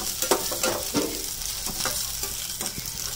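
Parboiled potatoes fry lightly in a pan for sabudana khichdi, giving a steady soft sizzle broken by a few scraping stirs, close and moderately quiet.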